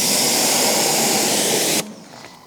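A pressure-washer spray rinses a car after an Autoglym Polar Series product is applied, a loud, steady hissing blast close by that cuts off abruptly near the end, leaving quiet.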